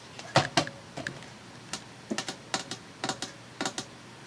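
A paper trimmer slices through paper in a run of quick, crisp snips and clicks, sharp and close, spaced irregularly over a few seconds with no voices.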